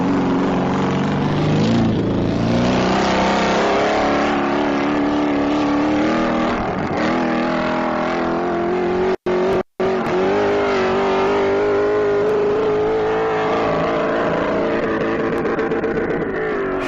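A 2001 Corvette on a B licensing run at Speed Week accelerates hard through the gears, its loud engine note climbing in pitch, dropping briefly at a shift, then winding up again in a long sustained pull.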